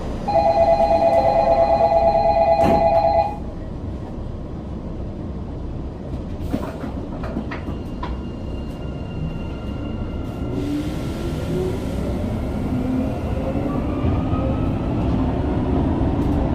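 A Sillim Line light metro train runs along the track with a steady rolling rumble and whine. A loud electronic chime tone opens, then fades, leaving the car's continuous hum and rattles.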